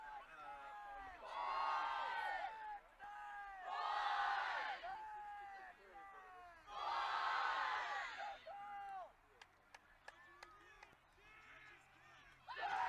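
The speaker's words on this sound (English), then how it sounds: "You can hear the chants of Texas fight from the crowd" A crowd at a collegiate quidditch championship chants "Texas fight" in loud repeated bursts, rising and pausing in rhythm, with scattered whoops and sharp claps near the end.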